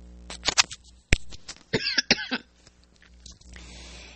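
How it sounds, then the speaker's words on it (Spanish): A person with an irritated throat clears it and coughs in a string of short, close bursts, some of them sharp and some raspy, with quiet pauses in between. "ya otra vez empieza la carraspera."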